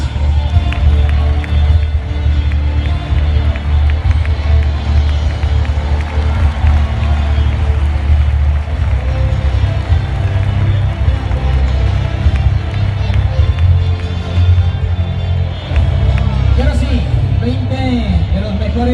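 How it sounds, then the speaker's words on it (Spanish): Crowd at a Valencia bullfighting recortes contest applauding and cheering as a sword handler is introduced, a loud steady roar of clapping with an announcer's voice over it throughout. "Recibamos con un fuerte aplauso a Ramón Mesas"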